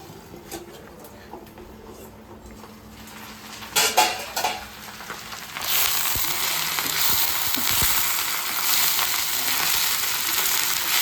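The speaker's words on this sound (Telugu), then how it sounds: "మిరపకాయలు ఉల్లిగడ్డలు అన్నీ వేగుతున్నాయి కదండి" Steady sizzling of chillies and onions frying in a pan, preceded by clinking of utensils and stirring against the pan, with no voices.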